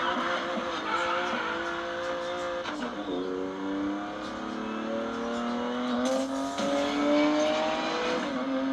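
A BMW GTS accelerates hard, its engine climbing through rising revs in several pulls with gear-change breaks between them, loud and close with a brief tire squeal-like edge.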